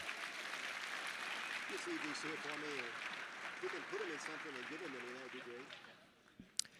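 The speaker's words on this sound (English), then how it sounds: "Give him a round of applause" Sustained crowd applause at a club gathering, steady and fairly distant, with someone talking over it partway through before the clapping fades out.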